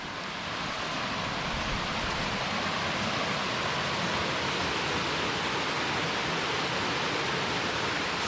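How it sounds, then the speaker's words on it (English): Morgan Falls, a waterfall near the end of a backpacking route on the Pinhoti Trail, roars in a steady, dense broadband rush that holds at an even loudness throughout with no talking. "A beautiful waterfall right here at the end of our trip."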